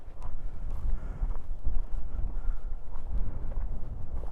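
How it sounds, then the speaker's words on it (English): Steady, heavy wind gusting around 15-20 mph buffets the microphone near a beach in Saranda, Albania, with low rumbling gusts, continuous and loud, with no voices. "Really windy here today. Feels like it's about 15-20 mile an hour gusts."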